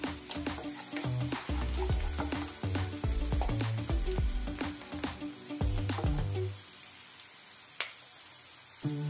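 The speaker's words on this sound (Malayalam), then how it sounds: "ഇനി നമുക്കിതിലേക്ക് പൊടികൾ ചേർത്ത് കൊടുക്കാം" Spice powders including turmeric hitting hot oil for a chicken pickle, loud close sizzling with repeated stirring scrapes for about six seconds before easing into a quieter fry.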